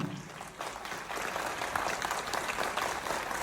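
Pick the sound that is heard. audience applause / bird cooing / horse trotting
audience applause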